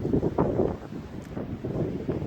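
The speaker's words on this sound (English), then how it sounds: "You see, it's quite windy." Gusty bora wind in Croatia buffets the microphone in a continuous rumbling roar, rising and falling in strength, near an olive plantation.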